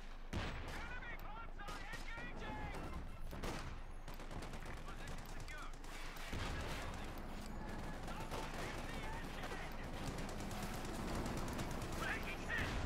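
A video game tank battle fills with dense gunfire: rapid machine-gun bursts and single shots overlap continuously, with a louder cluster near the start, while a voice talks over the action throughout.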